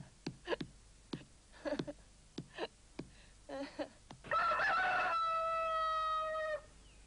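A rooster clucks in several short separate bursts, then lets out one long drawn-out crow, heard fairly quietly against a calm background.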